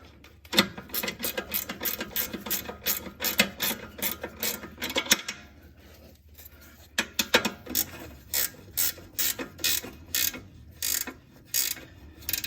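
Ratchet wrench drawing a ball joint up into the control arm of a 2012 Hyundai Tucson front suspension, rapid clicking runs in bursts with a short pause midway, close and distinct, no speech.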